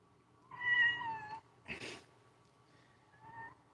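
A house cat meows in two clear, drawn-out calls with a brief rustle between them, close by at night, with no speech over the sound.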